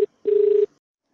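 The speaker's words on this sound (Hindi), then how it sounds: "यहाँ पे देखिए मेरे मोबाइल में एक अननोन नंबर से कॉल आ गया।" An incoming call rings on a mobile phone from an unknown number: a brief electronic tone blip, then a longer steady beep of about half a second, clear and close with no voices.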